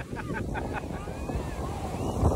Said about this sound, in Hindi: बहुत ही बड़ी लहर आ रही है